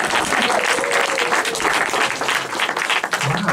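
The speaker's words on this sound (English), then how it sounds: "give a massive cheer, round of applause, for Chris Hogg" A comedy audience at the Towner in Eastbourne gives a loud, dense round of applause with cheering for comedian Chris Hogg, a continuous close wash of clapping that stays full and steady throughout.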